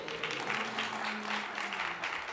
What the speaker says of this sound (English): all those who are against it to cheer your team here on the right